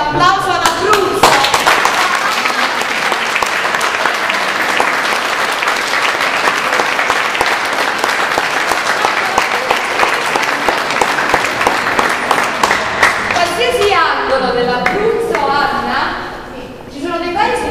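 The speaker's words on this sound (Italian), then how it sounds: "quindi un applauso alla Bruzza." Sustained, dense audience applause from a large crowd at a choir concert evening, steady and loud throughout before thinning out near the end.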